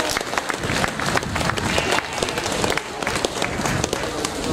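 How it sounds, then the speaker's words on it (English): Audience at the North Somerset Show claps for sheep shearers, a brisk, close mix of individual hand claps with some crowd murmur underneath. "Give them both a big round of applause"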